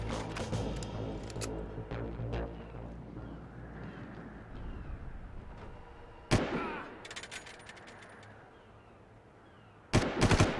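Gunfire from the video game Far Cry 1 rattles through a dense, loud mix of game sound, with a few sharp broadband bursts standing out near the middle and at the end.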